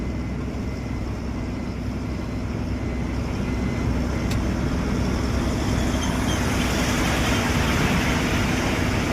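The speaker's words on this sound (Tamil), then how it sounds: "அது மீறி இன்னும் போயிட்டுருக்கு டிராஃபிக்." Highway traffic of cars and trucks rumbling past in a continuous broadband roar, steady and fairly loud, with a faint passing whine midway and no speech.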